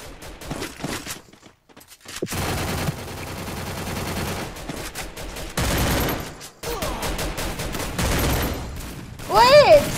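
Rapid bursts of gunfire in a Free Fire battle royale match, including shotgun blasts at short range, firing in dense volleys with brief pauses, under excited talk from players.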